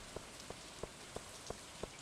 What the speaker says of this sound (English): I like a good rainy day.